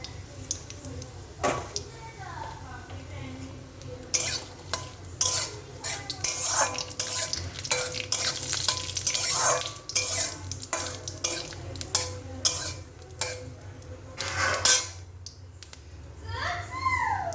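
Cumin seeds and a bay leaf sizzle in hot oil in a home kitchen, a soft steady frying hiss under repeated clinks and scrapes of a spatula stirring in the pan, with someone talking now and then.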